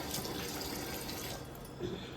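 Fresh chickpea leaves being washed in water, a soft, quiet swish and trickle of water with a small splash toward the end, and no voices.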